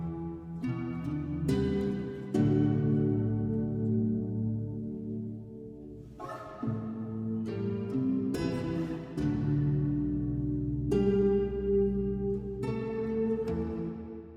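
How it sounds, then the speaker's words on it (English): A music track with a slowed-and-reverb effect applied plays alone: deep, drawn-out bass and chord notes with long reverberant tails, struck in loose phrases every couple of seconds and washing into each other. "Slowed and reverb sounds like this."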